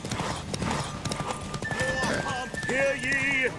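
Horse hooves clip-clop at a horse race in the video game The Witcher 3, with a horse neighing and whinnying loudly near the end, while voices talk over the hoofbeats and whinnies.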